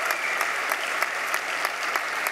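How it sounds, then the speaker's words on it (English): An awards dinner crowd gives continuous applause to pre-doctoral students standing, a steady roomful of clapping with occasional sharper individual claps. "it is my pleasure to invite our scientists to rise to accept applause"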